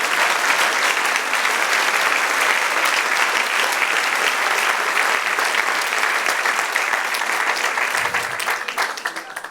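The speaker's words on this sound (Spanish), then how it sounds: "Den un aplauso al Señor." A church congregation breaks into loud, sustained applause in a worship service, a dense wash of clapping holding steady for most of the span before thinning out slightly near the end.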